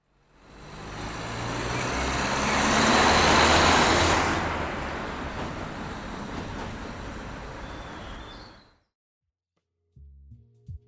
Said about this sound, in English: you get a sense of the car pass